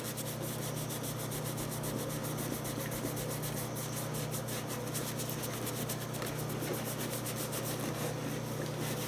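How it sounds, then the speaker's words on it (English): Acetone on a cloth rubs across a leather Carmina oxford shoe, a continuous close, soft scrubbing with rhythmic strokes, quiet and steady throughout. "you're just going to start wiping, and you're going to see the shoe start to dull"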